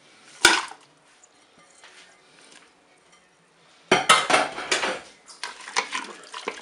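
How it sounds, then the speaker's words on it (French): Rice and button mushrooms go into a Cookeo multicooker pot for a pork roast dish: a sharp clink of utensil on the pot, then quiet, then a busy run of scraping, pouring and rattling against the metal bowl, close and alone. "Je vais ajouter le riz. Je vais ajouter mes champignons de Paris."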